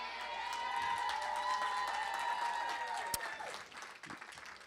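Loud, sustained applause and cheering from an awards ceremony crowd, a dense steady roar of clapping that swells and then begins to thin toward the end.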